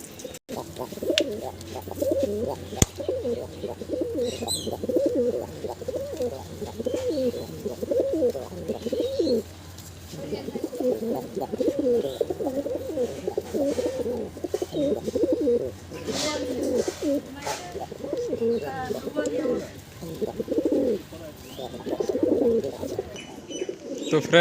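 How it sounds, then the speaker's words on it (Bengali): Pigeons of the Murshidabadi breed coo in a coop, a close, repeated throaty burbling that runs almost without a break. A low steady hum sits underneath, and there is an occasional faint chirp. "দুটি পায়রা একসঙ্গে খোপের মধ্যে দেখব"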